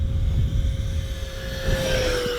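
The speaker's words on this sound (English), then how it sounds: "Very, very jet sounding in my opinion, which is really cool of a jet of this size" An Arrows T-33 50mm EDF warbird RC jet flies past with a steady, loud jet-like roar and a faint whine, swelling slightly toward the end as it passes, with no talk.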